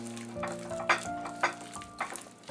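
Ginger garlic paste gets stirred into a chilli chicken mixture, with soft, intermittent scraping and light rustling bursts, quiet and close, no voices.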